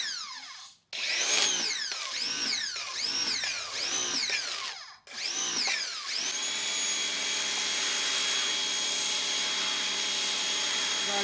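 Ryobi electric pressure washer running at 1.7 GPM while car mats are foamed, first pulsing in repeated short bursts with whining pitch swoops, then settling into a steady loud continuous hum and hiss.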